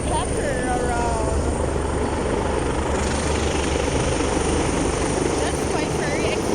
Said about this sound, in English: wow, helicopter around